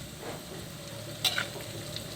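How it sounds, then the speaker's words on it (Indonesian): Flour-coated chicken skin frying in hot oil for an Indonesian home dish, a steady loud sizzle throughout with a couple of brief sharp pops, no talk. "Kita goreng yang ini ya, kulit ini."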